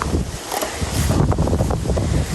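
Strong wind buffeting the microphone with a broad, roaring rush of noise, steady and loud throughout.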